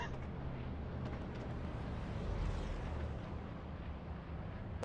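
Tank battle in the video game Hell Let Loose: a steady, dense rumble of cannon fire and explosions, heavy low-end roar and crackle with no distinct single blasts, moderately loud throughout.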